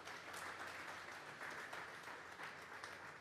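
Faint, distant applause fills a Sunday church service with dense, steady clapping from a congregation honouring the Lord, carrying on evenly and without speech.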